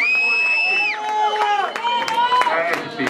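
A crowd at a rap battle (Batalha do Galo) claps and cheers for the MCs, with dense applause and whoops under loud talking, whistling-like voice tones sliding over the noise.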